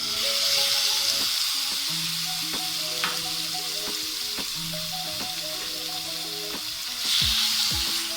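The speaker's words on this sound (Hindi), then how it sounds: "मैं चिकन को अच्छे से सौते कर लेंगे" Small chicken pieces sauté in a pan with a steady, loud sizzle and hiss throughout, joined by occasional stirring clatter and scrapes and a swell of frying near the end, with no one speaking.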